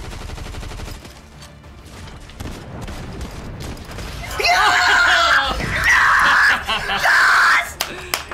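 Rapid bursts of Fortnite gunfire crackle in quick volleys, rising louder toward the end and mixed with excited shouting and laughter from players nearby.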